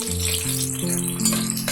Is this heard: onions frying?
yes